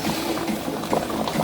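Water simmering in a cooking pot with food slow-cooking in it, a steady close bubbling and gurgling with no pauses and no voices.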